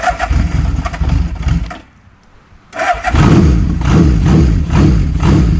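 A Honda CB750 motorcycle with the choke pulled and fuel turned on cranks loudly, pauses briefly, then fires and settles into a loud, steady, close-up idle.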